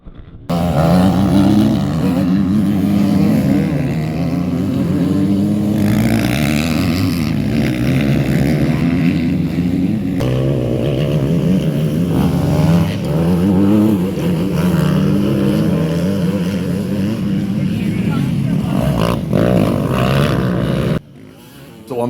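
Motocross and enduro motorcycles race at a race day in South Thailand, engines buzzing and revving loudly and continuously with rising and falling pitch as they accelerate, heard up close for about twenty seconds before cutting off.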